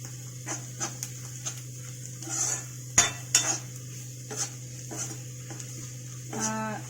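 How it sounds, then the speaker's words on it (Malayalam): A spoon stirs chili powder in a pan for vegetable curry, giving intermittent scrapes and light metallic clinks over a steady low background hum. "നന്നായി ഇളക്കുക."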